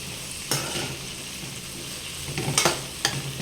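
Food frying and being stirred in a pan gives a steady close sizzle, punctuated by a few sharper scraping knocks from the utensil against the pan, with no talking.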